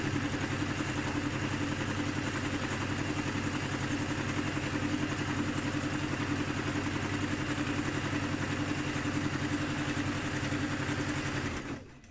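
Electric sewing machine running steadily as it stitches fabric for a drawstring bag, a continuous close mechanical hum with fast rhythmic clatter that holds for about twelve seconds before cutting off.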